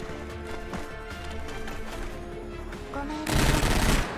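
Gunfire in the video game GFL2, with rapid repeated shot reports over game music, ending in a loud burst of heavy firing near the close.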